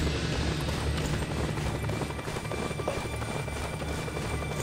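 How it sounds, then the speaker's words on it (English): A helicopter's rotor in the video game Just Cause 2 chops steadily and loudly, a continuous thrumming whir that stays close throughout. "That helicopter will tear us to pieces!"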